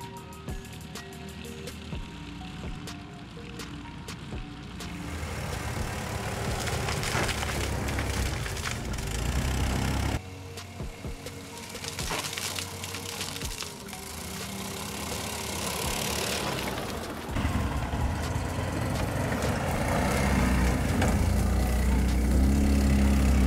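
Dobrinya tracked ATV with large metal lugs on its tracks crawling over very rough terrain, a steady engine drone beneath continuous crunching, cracking and scraping from the ground and tracks, growing louder toward the end.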